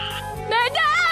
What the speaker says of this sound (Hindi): ये मेढक इतना शोर क्यों मचा रहे हैं?